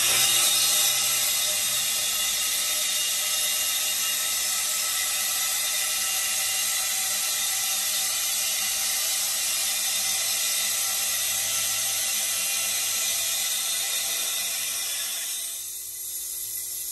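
Otis Series 5 hydraulic elevator machine running in its machine room, a steady mechanical hum and whir that holds constant for about fifteen seconds, then tapers down near the end with no talking.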